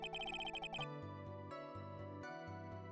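A phone ringtone chimes in a quick run of bright, repeated electronic tones for under a second, loud and up front, then cuts off into sustained game music.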